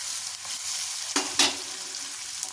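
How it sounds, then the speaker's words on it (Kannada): Ingredients frying in ghee in a pan for tempering bisi bele bath, a steady soft sizzle with two sharper crackling bursts from stirring, close and fairly quiet with no voices. "ನೋಡಿ ಹಿಂಗೆ ಫ್ರೈ ಮಾಡ್ಕೊಳ್ತಾ ಇದ್ದೀನಿ ಕೆಂಪು ಕಾಬೇಕು"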